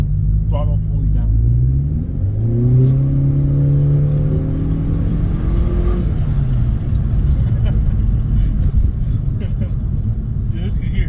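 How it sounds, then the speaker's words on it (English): A Honda Civic FK7 with a Mishimoto cold air intake accelerates at full throttle in drive, its engine rising steadily in pitch through gear shifts around two and six seconds, loud and close with a steady road rumble. "I'm going to show you guys how a full acceleration sounds like."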